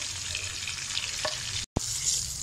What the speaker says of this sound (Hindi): प्याज और लहसुन अदरक हरी मिर्ची के पेस्ट को हम 2 मिनट और फ्राई कर लेंगे चिकन के साथ